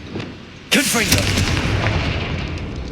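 A Confringo blasting spell in the Hogwarts Legacy video game goes off as a single sudden loud blast, followed by a sustained rumbling roar and crackling debris that carry to the end, with faint voices beforehand.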